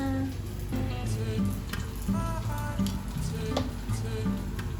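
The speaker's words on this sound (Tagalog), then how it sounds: "ang maraming uh, klase-klaseng tuyo na niluluto" Assorted dried fish frying in a pan, a steady crackling sizzle that runs the whole time at moderate loudness, with faint tonal sounds in the background and no talking.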